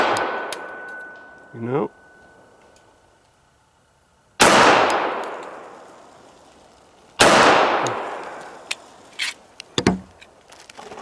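Two sharp, loud pistol shots from a 1918 Colt 1911 crack outdoors several seconds apart, each trailing off in a long echo. Quieter knocks and a brief voice come between them.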